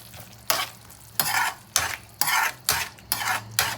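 Boiled vegetables for pav bhaji being mashed and mixed in a pan, heard as a series of about six firm, regular scraping and squishing strokes, close and clear, with no talking.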